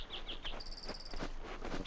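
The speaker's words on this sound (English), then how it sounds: "It's so nice to hear animals, birds, and the scenic sounds" Faint outdoor ambience in the video game Voices of the Void, high chirping birds and insects, with a few repeated tweets and a thin sustained whistle over a quiet background.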